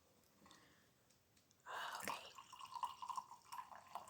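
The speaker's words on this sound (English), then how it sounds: "I'll pour my tea." Tea poured from a pot into a new mug makes a quiet, close liquid trickle that starts after a soft pause and continues with small drips and splashes.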